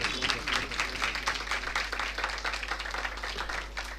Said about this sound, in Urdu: اس فیملی کے لیے ہم زوردار تالیاں بجائیں گے